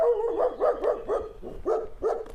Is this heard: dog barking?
yes